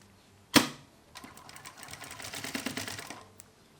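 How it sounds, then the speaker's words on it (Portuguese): A sharp thump opens, then a sewing machine runs in a fast, even stitching burst along a fabric edge for a few seconds before stopping, close and distinct. "Aí vou fazer uma costura bem na borda, tá? Só para prender aqui no lugar."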